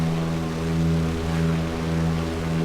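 Propeller airplane engine at full throttle during a climb in Flight Simulator X, a steady loud droning hum with strong low harmonics that holds constant throughout, with no voices.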